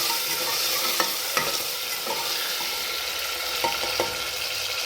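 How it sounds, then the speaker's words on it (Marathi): Khichdi ingredients of garlic paste, cut potato and peas are stirred together in a frying pan, a soft, continuous sizzle with occasional light clicks of a spoon on the pan. "हे मिक्स करून घ्या."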